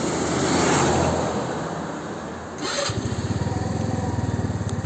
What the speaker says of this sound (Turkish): Şöyle çalıştıralım motoru tekrardan.